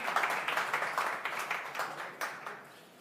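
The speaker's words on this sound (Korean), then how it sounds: "후보들께서 저 단상에 올라오실 때 박수로 환영해 주시면 대단히 고맙겠습니다" Audience applause at a party's presidential primary candidate vision presentation, a dense wash of clapping that swells then gradually fades over a few seconds, welcoming a candidate to the stage.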